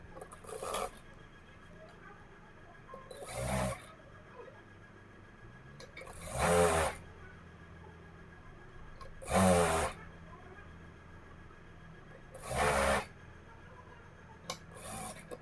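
A sewing machine runs in short bursts roughly every three seconds, stitching the bottom hem of a dress with quiet pauses between runs; close and moderately soft, with no talking.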